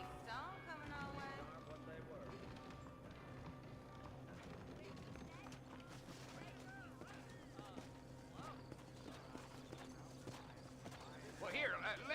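Horses clip-clop at a trot in the Red Dead Redemption western video game, hooves beating steadily beneath spoken dialogue, with a brief whinny and game ambience around them.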